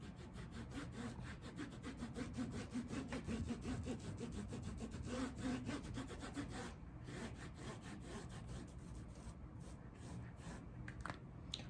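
A washcloth rubs back and forth across a diamond painting canvas being sealed with glossy Mod Podge, a steady close scrubbing friction that is loud and dense for the first seven seconds, then lighter, broken strokes.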